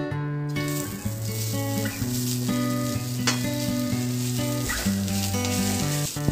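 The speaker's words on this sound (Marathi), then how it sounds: "प्रथम मी कांदा तेलामध्ये भाजून घेते।" Chopped onion fries in oil for a Malvani-style chana usal, a steady close sizzle that runs the whole time beneath a tonal musical backing.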